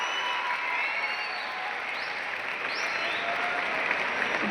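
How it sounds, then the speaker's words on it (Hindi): An audience applauds Gurinder Veer in a steady, dense wash of clapping that holds at an even level throughout, moderately distant, with a faint voice rising briefly over it. "जोरदार तालियां"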